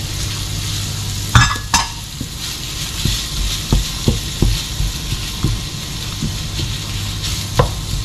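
Kefta stirred in a pan with onions and peppers, a loud, close frying sizzle with repeated scrapes and knocks of a spoon on the pan at an irregular rhythm, no voices.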